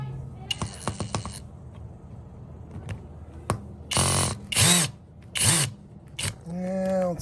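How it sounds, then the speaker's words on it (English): A cordless drill used in impact mode on a car wheel bolt during a cheap tire repair gives short clicking pulses, then several loud ratcheting and whirring bursts up close, with brief pauses between attempts. "I'll see if I can get it out with the drill here."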